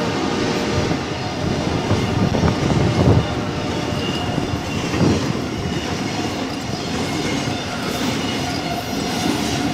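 CSX 482 freight train rushing past at speed through Altamont, Illinois, a dense continuous roar of rolling cars and rattling wheels with steady clatter, loud and close throughout.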